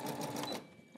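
A single-needle embroidery machine stitches on a hat in a loud, fast, buzzing run that stops abruptly after about half a second, leaving a few faint clicks.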